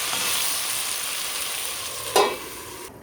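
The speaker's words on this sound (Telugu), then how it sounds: "సాల్ట్ వేసుకున్నాక బాగా మిక్స్ చేసుకోవాలి." Chopped ridge gourd with salt being stirred in a hot pan, a steady soft sizzle with one brief scrape of the spoon near the end, close and with no voices.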